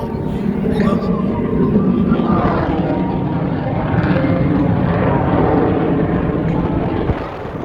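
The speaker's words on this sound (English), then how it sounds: "There he is, the F-22 Raptor." An F-22 Raptor jet flies past at an air show, a loud, steady roaring engine wash that swells and holds for several seconds, with crowd noise beneath it.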